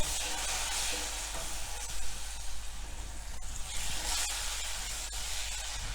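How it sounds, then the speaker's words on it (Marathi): Bottle gourd pieces frying with onions browned until dark make a steady hiss and sizzle in the pan, with light stirring scrapes heard close by and no one speaking. "आपला कांदा काळपट ब्राऊन झालेला आहे आता त्यामध्ये आपण दुधी भोपळ्याचे तुकडे टाकणार आहोत"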